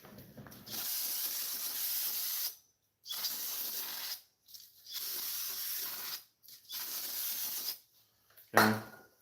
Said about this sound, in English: We're gonna clean the oil off.